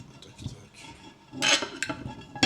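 A tuna, tomato, avocado and mozzarella salad is mixed in a dish, with scattered utensil scrapes and sharp clinks against the bowl, a louder flurry midway and another at the end.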